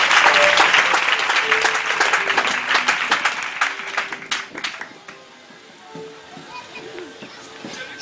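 A church congregation at a Sunday service applauds for Jesus, a dense burst of clapping that is loud at first and thins out over several seconds, with voices and faint tones continuing afterward.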